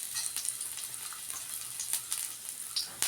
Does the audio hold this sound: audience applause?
no